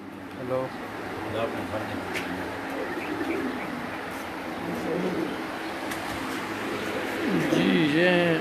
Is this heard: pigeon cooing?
yes